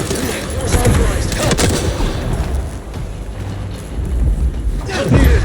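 Gunfire and a grenade blast in the video game Vampire: The Masquerade – Bloodlines 2, a dense, continuous barrage of shots and booms with a few sharper bursts, loud throughout, with shouted voices mixed in.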